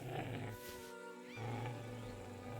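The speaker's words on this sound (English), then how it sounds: "Oh, I hear growling again." A wild animal growls in the Kingdom Come: Deliverance II game world, a low rumbling snarl that rises twice, dipping briefly in the middle, heard steady and fairly close over ambient game sound.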